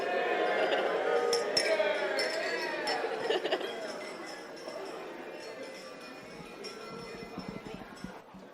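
Glasses clink repeatedly at a wedding toast to the couple, light bright chinks scattered through a busy room of guests chattering and talking close by, the clinks thinning out toward the end.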